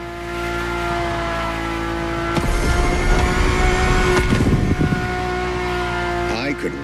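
A car engine in the racing game The Crew Motorfest idles steadily, then revs up sharply into a loud, raspy roar for a couple of seconds before settling back down, heard close and clear from inside the car.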